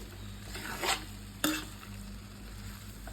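Coriander chicken fries in ghee in a pan with a low continuous sizzle, punctuated by two sharp scraping stirs of a spatula against the metal, quiet and close.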